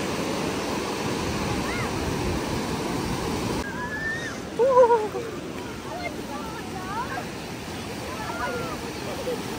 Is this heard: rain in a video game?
no